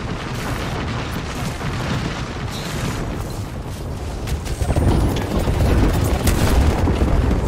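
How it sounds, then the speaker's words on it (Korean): Airstrike explosions in the battle royale game Apex Legends roll on continuously as a loud, dense barrage of booms and crashes, swelling heavier toward the end with no clear speech. "공습이 온다."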